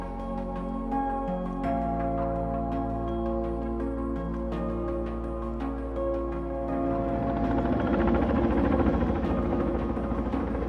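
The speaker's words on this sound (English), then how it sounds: "Today we were using a helicopter to deliver large wood." A helicopter flies over a river restoration site delivering large wood for salmon and steelhead habitat, its steady rotor drone continuous throughout and growing louder and more rumbling in the last few seconds as it nears.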